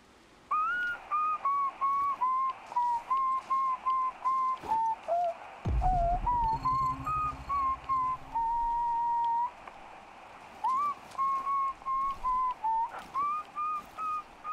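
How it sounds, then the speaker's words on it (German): A character in the video game Chernobylite whistling a melodic tune, a clear run of repeated short notes with brief pauses, close and alone, with a muffled thud partway through. "Also pfeifen kann er schon mal."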